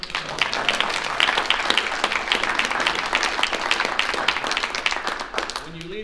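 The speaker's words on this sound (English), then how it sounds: "Can you have a round of applause for her?" Audience at a conservative political forum applauding steadily for several seconds, dense clapping with voices mixed in throughout.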